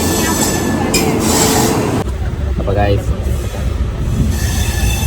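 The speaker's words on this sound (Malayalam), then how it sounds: "ട്രെയിൻ സ്റ്റാർട്ട് ചെയ്തു." A train pulling away from a station platform for a second-class journey, with a steady rumble of wagons and brief wheel squeal as it starts moving, heard close beneath people talking.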